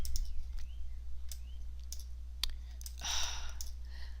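Sharp mouse clicks in 3D modeling software, a few scattered taps close to the mic over a steady low hum, with a brief burst of rustling handling near the end.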